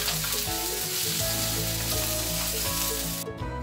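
Chicken paste ingredients for reshmi chicken fry in a pan, giving a steady, loud sizzle with layered crackling that runs throughout, close and alone with no talking.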